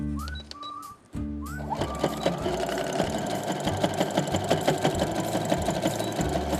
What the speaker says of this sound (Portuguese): E agora é só passar o zigue-zague aqui